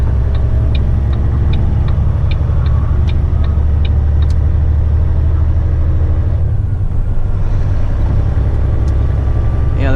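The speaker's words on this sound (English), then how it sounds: "the truck pulls great today" A heavy-haul truck drones along a highway through Northern Ontario, a loud, constant low engine rumble with faint regular ticking on top and no talk.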